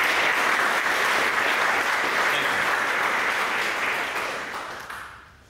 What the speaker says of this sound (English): let's give it a round of applause for these two guys